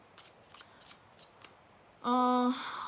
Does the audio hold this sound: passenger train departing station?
no